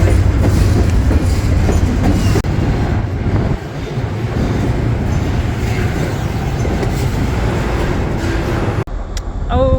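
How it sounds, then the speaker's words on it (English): A train passing close by, loud continuous rumble and rail clatter with wheel noise filling the whole stretch, briefly dropping off near the end as it moves away. "Roland, finally got rid of that train"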